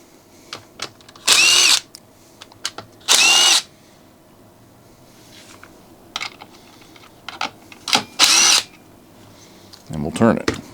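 A cordless power drill whirs in short bursts, about four, backing screws out of the fan housing on a Homelite 330 chainsaw. Quiet clicks and handling noises fill the gaps, and a voice speaks between the bursts.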